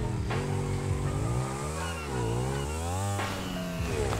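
A car engine drones steadily in a video game, its pitch rising and falling as it revs and shifts, loud and continuous throughout with a brief surge near the start and another late.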